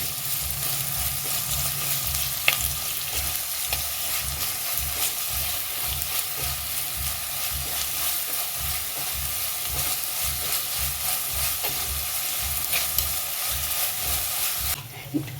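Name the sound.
onions frying in ghee for Mangaluru-style chicken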